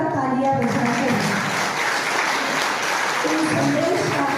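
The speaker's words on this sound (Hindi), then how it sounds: "एक बार जोरदार तालियां बजाकर" Loud applause from a large crowd fills the space while voices call out and speak over the clapping.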